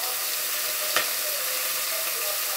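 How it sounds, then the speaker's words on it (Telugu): Tomatoes and coriander frying in a pan for drumstick sambar, a dense, even hiss of sizzling oil with one brief stir scrape near the start, loud and continuous with no talking. "బాగా టమాటో మగ్గేంత వరకు మనం ఫ్రై చేసుకోవాలి"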